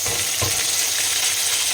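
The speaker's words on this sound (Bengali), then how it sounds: "তো মাছটা ভাজা হয়ে গেছে কি বলো" Fish fries in a pan with a continuous bright sizzle and hiss, plus a brief low clunk near the start and no talking.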